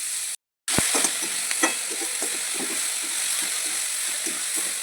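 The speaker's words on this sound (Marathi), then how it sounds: "व्यवस्थित परतून घ्या, एकदम मिक्स करून घ्या कांद्यामध्ये" Onions with ginger-garlic paste sautéing in a pan for street-style anda ghotala, a steady close sizzle broken by repeated scraping stir strokes after a brief silent gap at the start, with no voices.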